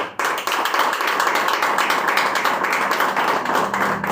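A church congregation claps their hands together in sustained, dense applause at close range, steady for about four seconds after a brief quiet start, with no talk over it.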